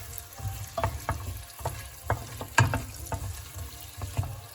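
Onions going into melted butter in a soup pot and frying, with a soft sizzle under irregular stirring knocks and scrapes, fairly close and moderately loud, no talking.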